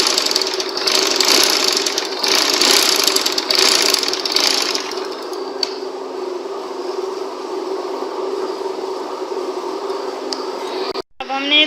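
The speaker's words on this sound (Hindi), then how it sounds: "अब बिल्कुल जो सिलाई मशीन की सुई की नोक है उसको पेपर पट्टी के साथ साथ रखना है।" Sewing machine stitching fabric alongside a paper strip while making a round kameez neckline, a close, steady mechanical whirring for several seconds that eases into a quieter hum, with a brief clatter near the end.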